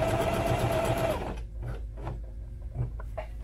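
Sewing machine stitching filler material onto a sling saddle, a loud continuous run for just over a second, then quieter scattered handling noises.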